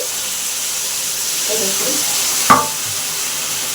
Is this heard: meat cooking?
yes